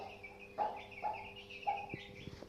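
Chickens clucking softly as they are let out of their coop, a few short repeated clucks at a moderate distance with light rustling and no talk.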